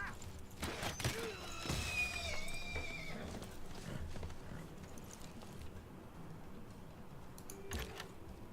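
Horses neigh and whinny in the Civilization 6 strategy video game, with a loud harmonic whinny early on, a second cry near the end, and hoof clip-clop and game noise running under them.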